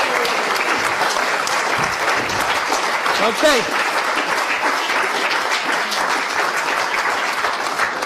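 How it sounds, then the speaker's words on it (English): Loud, continuous audience applause fills the whole stretch, with a brief spoken word cutting through near the middle. "Give Joe a big round of applause."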